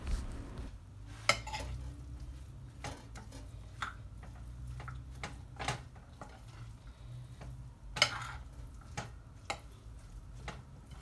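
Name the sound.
stirring vegan tuna salad in a bowl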